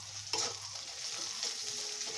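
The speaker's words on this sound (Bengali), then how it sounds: "রসুনটাকে দিয়ে ভালো করে ভেজে নেব আমি।" Chopped garlic sizzles in hot oil with green chillies in a pan for a dried-fish curry, making a steady close fry with a few scraping stirs.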